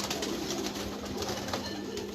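A pigeon of the heavy, meaty type coos on a rooftop loft, close and fairly loud, over a steady low background hum.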